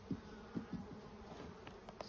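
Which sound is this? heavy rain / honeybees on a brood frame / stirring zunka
honeybees on a brood frame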